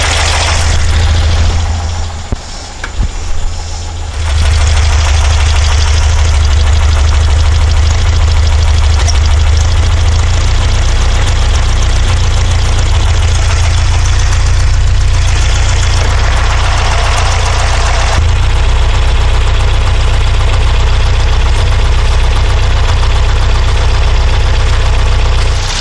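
A car engine fitted with Dellorto DRLA carburetors idles roughly with one cylinder misfiring, a steady loud uneven lope that carries on alone for the whole clip, with a brief drop in the first few seconds.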